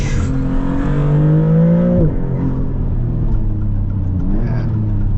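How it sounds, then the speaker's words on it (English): A 2026 Maserati MCPura on a test drive, its engine note rising loud and close as it pulls, then easing off, with a thin turbo whistle above the engine. "The turbo whistling and everything is, it's like an old school aftermarket Skyline or something."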